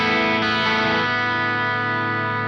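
Electric guitar straight into an amp set at edge-of-breakup, no pedals engaged: a strummed chord rings out with slight grit and sustains evenly as it slowly decays, loud and alone.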